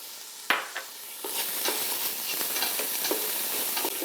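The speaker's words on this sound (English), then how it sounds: "we're gonna add some garlic that I've minced up and fry that for another few minutes" Minced garlic fries and sizzles in a soup pot, a steady close crackle broken by a few scraping stirs of a spoon, with no one speaking.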